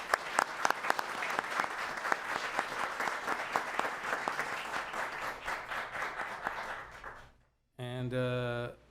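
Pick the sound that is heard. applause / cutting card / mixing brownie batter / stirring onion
applause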